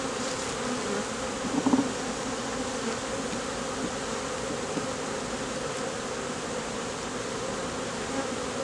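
Bees from a rescued swarm hum around an opened hive box in a dense, continuous buzz. A few brief closer flybys and faint handling knocks rise above the steady drone.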